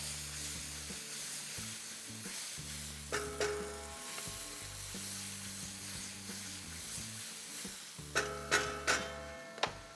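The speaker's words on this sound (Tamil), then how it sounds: "நல்லா மிக்ஸ் பண்ணி விடுங்க." Three-colour capsicum stir-frying in a pan for capsicum rice makes a steady sizzle, broken by a few light clinks and scrapes of stirring.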